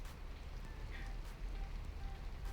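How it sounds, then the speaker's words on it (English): Rain pounding steadily on a van roof in the video game Arcade Spirits, a dense continuous hiss of drops that holds level and fairly loud throughout, with no voices. "With the rain pounding down on the van roof, conversation gets a bit difficult"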